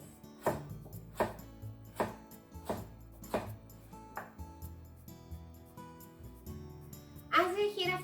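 A knife cuts broccoli into diagonal slices on a board, giving six steady, crisp chops at an even pace, close and clear. A short burst of light music follows.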